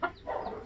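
Hens in a noisy flock kept with fertile eggs and newly hatched chicks cluck briefly and faintly at a short distance.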